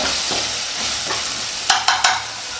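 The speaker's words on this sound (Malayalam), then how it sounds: "ഒന്ന് ഇളക്കി ഇളക്കി കൊടുക്കണം അല്ലെങ്കിൽ അടി പിടിക്കാം" A spoon stirs soybean curry in a pan to keep it from sticking, a soft scraping sizzle underneath, then three sharp metallic knocks near the end.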